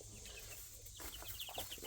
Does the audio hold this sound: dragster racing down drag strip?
no